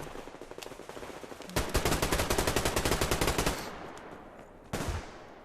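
A long-barreled AK-style rifle in the video game Survarium fires a rapid automatic burst of about two seconds, loud and punchy, then one more short burst after a pause.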